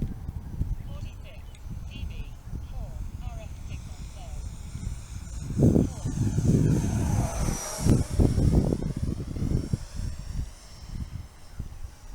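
A FlyFans 64mm L-39 RC jet with a 6S-powered ducted fan passes overhead, its whine rising and swelling loudly midway, then fading, with a person talking throughout.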